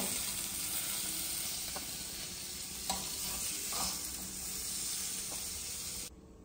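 Cashews frying in oil until golden brown, a steady close sizzle and hiss with occasional stirring scrapes, alone without talk, cutting off abruptly near the end.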